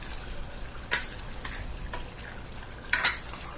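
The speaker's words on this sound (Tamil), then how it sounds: "ஃபுல்லாக தக்காளி வந்து நல்லா வதங்குற அளவுக்கு வேகட்டும்" Tomatoes sauté in a pan for Tamil chicken kulambu with a soft, steady sizzle, broken by a few sharp scrapes and clinks as a utensil stirs against the pan. The sound is close and there is no talking.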